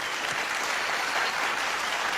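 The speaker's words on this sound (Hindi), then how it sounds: "मैं चाहता हूं कि जगजीत जी के लिए जोरदार तालियां हो जाएं एक बार।" Audience applause at a live stage show, steady dense clapping from a crowd throughout, fairly distant and even, with no talking.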